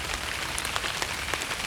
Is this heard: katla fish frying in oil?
no